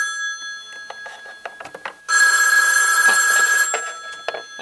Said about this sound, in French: Chiara, tu as décroché du téléphone qui vient d'être activé